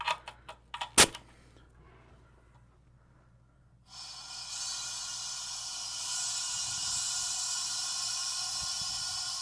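Compressed air hisses steadily into a resin casting pressure pot after a few sharp clicks and knocks, the hiss continuing alone at moderate volume.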